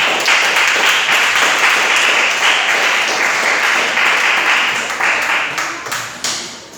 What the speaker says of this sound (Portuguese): Sente, desocupe as tuas mãos e aplauda os céus bem forte.